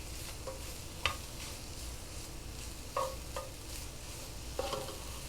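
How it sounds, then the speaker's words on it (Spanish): Soybean sprouts and other ingredients being stirred and fried in a pan, with a steady sizzle throughout and a few sharp scrapes and knocks of the spoon against the pan. "aquí lo vamos a mezclar y que vaya friendo poco a poco"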